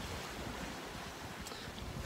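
On a sailboat crossing a calm Barents Sea in a gentle breeze, a soft, steady wash of small waves blends with low wind rustle. It sounds continuous and faint, with no voices.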